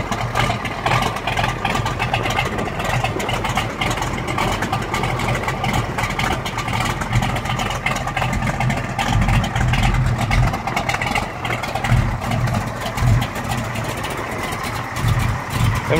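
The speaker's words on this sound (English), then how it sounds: "maybe a listen to the exhaust out back." A 1968 Camaro SS 396 with MSD ignition and a lumpy cam idles near its rear exhaust, a steady loud burbling rumble with uneven pulses throughout, with no talk.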